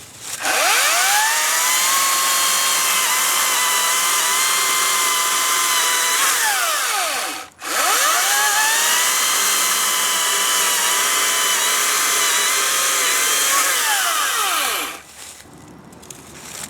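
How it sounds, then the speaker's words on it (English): An ECHO 58-volt brushless battery chainsaw cuts through a wooden log: a loud, steady high whine runs for about seven seconds, stops abruptly, then resumes for another seven seconds before cutting off. "Now let's see how the chainsaw does slicing through this log."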